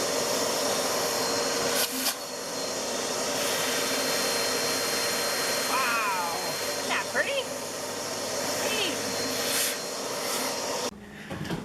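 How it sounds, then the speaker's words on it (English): A vacuum cleaner drones steadily for several seconds with faint rattling as it sucks up sawdust, then cuts off abruptly near the end. "I noticed all the dust in here and thought I'd suck it up"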